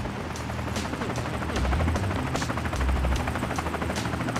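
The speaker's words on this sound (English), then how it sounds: "Here's the helicopter." Helicopter in the video game The Escapists 2, a steady loud rotor thrum with low throbbing pulses and rushing noise running throughout, no talk over it.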